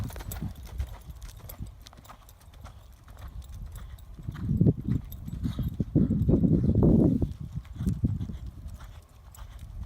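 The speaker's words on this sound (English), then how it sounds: "I'm trying to canter a big circle right now." A barrel racing horse canters a big circle, its hooves drumming in a steady three-beat rhythm on soft ground, growing louder as it passes nearby and then easing off.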